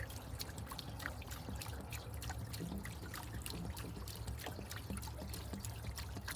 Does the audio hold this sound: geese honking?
no